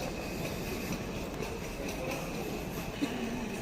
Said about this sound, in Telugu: ఈ లోపల ఇదిగో ట్రైన్.